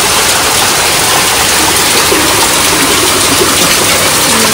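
Heavy rain pours down outside, a steady, dense broadband hiss that fills the whole clip with no break and no voices.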